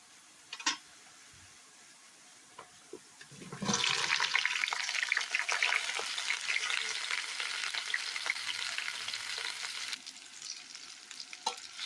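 Eggplant dropped into a pan of golden brown onions, bursting into a loud, steady sizzle that continues for several seconds, close and without talking, after a few quiet handling taps.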